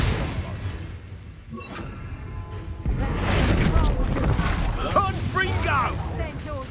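Spell blasts from Bombarda and Confringo burst in a Hogwarts Legacy camp battle, a loud rumbling boom swelling midway and holding under game voices and combat noise.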